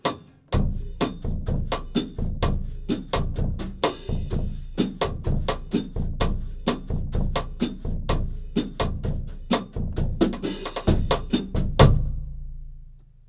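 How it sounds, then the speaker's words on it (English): Drums played with brushes in a soft swing comping pattern, one brush keeping time in the right hand; steady, even strokes and light accents run alone without talk for about twelve seconds, then ring out. "I would use one brush to comp with my right hand"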